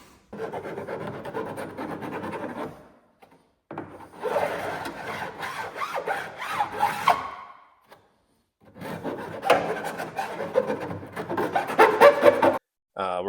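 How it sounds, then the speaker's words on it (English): Saw and file working the rough cut edges of an aftermarket dual suppressor exhaust on a Polaris RZR XP, heard as three bursts of steady rasping strokes separated by short pauses, close and fairly loud. "We're going to go through and try and clean that up with the saw, a little filing"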